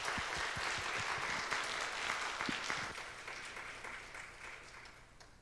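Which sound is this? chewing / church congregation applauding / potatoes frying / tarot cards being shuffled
church congregation applauding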